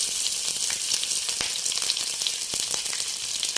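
Chopped onions and green chillies frying in hot oil with garlic and curry leaves in a pan, a loud, steady close-up sizzle with crackling pops throughout.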